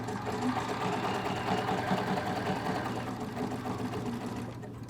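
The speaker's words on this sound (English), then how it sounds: "I'm stitching that binding on the back" A sewing machine stitches binding onto the back of a minky quilt, running at a steady, continuous mechanical whir close by with no talking, easing off slightly near the end.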